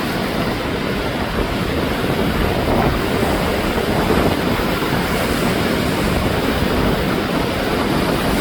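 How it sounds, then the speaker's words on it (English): Sea waves crash against coastal rocks just south of Porto, Portugal, a steady, loud, broadband roar of surf filling the whole stretch without pause, with no voices over it. "Look at that sea and the rocks and the waves crashing against them."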